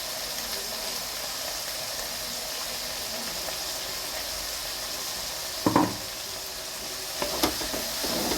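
Ginger-garlic paste sizzling with onions in a pan for a beef curry, a steady broad frying hiss with two brief louder bursts as the paste goes in near the end.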